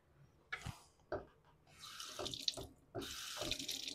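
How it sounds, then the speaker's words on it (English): Running water from a tap splashing into a sink during a razor sharpening and shaving session, coming in short bursts that grow into a steady close gush. "And we're going to go with some running water."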